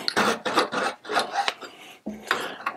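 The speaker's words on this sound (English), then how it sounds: "chamfer the outside for the shark bite" Short rasping strokes of a tool chamfering the outside edge of a pipe for a SharkBite push-fit fitting, about six scraping passes in an uneven rhythm, close and clear with no talk.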